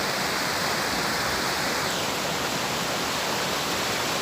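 Orekhovsky waterfalls near Sochi in spring, a steady, dense roar of falling water, loud and close, continuous with no voices.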